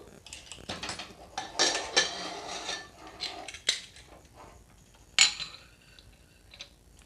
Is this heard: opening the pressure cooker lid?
yes